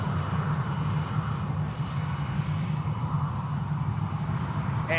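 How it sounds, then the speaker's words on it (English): Ryanair jet arriving at Manchester Airport on a short flight from Shannon: a steady, loud low engine rumble and roar that holds evenly throughout, outdoors, without voices. "Ryanair inbound from Shannon"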